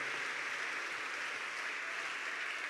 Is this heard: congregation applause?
yes